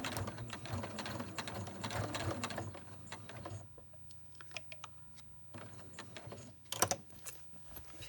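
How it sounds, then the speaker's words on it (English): A sewing machine stitches the side seam of a zippered pouch, with a steady rapid motor whir through the first few seconds, a quieter pause with light clicks, then a brief burst of stitching. "Pivot, sew down the side seam, pivot, sew across the end,"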